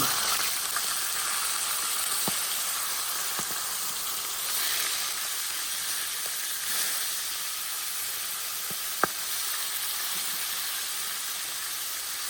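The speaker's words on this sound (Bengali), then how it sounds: "আমার বাসায় ইলিশ মাছের মাথা এবং লেজ ছিল আমি সেটা দিয়ে দিচ্ছি" Hilsa fish head and tail cook in oil in a pan with kalmi greens, a constant hissing sizzle holding steady throughout with a few faint clicks and no voices.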